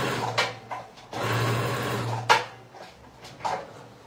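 A domestic sewing machine stitches a fabric sea turtle in short bursts, its steady motor whir running for about a second at a time between pauses and small clunks of handling.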